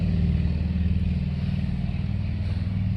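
A loud motorcycle engine rumbles steadily close by, a deep throbbing drone holding for a few seconds with no speech.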